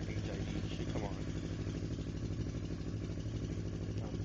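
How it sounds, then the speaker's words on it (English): A motorcycle engine idles steadily just after start-up, with an even, low, continuous rumble that runs unchanged throughout at a moderate level. "So let's go ahead and start it up."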